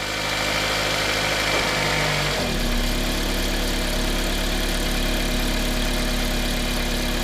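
A Toyota Matrix engine idles steadily with a low drone and vibration, shifting in pitch and load partway through as the car goes into reverse with worn engine mounts.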